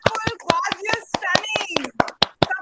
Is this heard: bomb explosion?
no